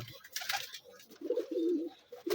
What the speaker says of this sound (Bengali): তো ভাই দেখলেন তো আমাদের 3 পিস কবুতর আছে